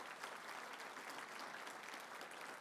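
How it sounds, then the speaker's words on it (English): Audience applause for finalist Boston Metal at an industry awards event, a steady, fairly faint wash of many hands clapping without a break for about two and a half seconds. "You can give them a round of applause."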